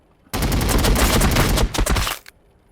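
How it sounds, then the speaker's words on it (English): Sustained burst of rapid gunfire from infantry in the Warhammer 40K Battlesector strategy video game, loud and dense for about two seconds before cutting off abruptly, with no talk over it. "So these guys, they can have a shot. Open fire!"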